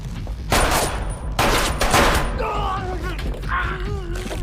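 Gunfire in a dramatic scene as an office worker shoots at a man in a file storage room, a loud burst of rapid shots followed by a second burst, then groans and voices under lingering noise.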